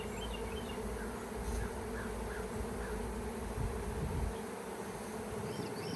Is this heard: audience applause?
no